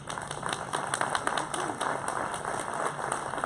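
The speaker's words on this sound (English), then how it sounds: "will y'all give these coaches a round of applause today?" Audience applause for coaches at a question-and-answer session, dense continuous clapping from a crowd at moderate distance, lasting throughout.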